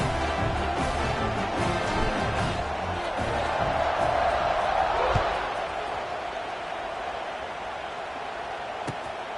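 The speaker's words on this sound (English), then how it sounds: "this crowd is buzzing after that last score." A football stadium crowd buzzes and cheers after a scoring drive, a broad steady roar that swells midway and then settles into a lower murmur.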